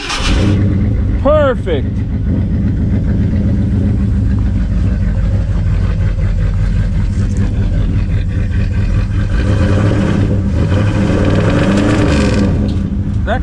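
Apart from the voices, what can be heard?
carbureted engine starting and running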